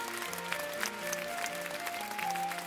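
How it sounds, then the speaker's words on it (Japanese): Theatre audience applause at the close of an opera-house scene, a soft, steady patter of clapping with faint tonal music underneath. "幕が降り、観客が拍手する。"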